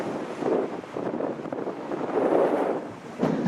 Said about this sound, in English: The wind is very, very dangerous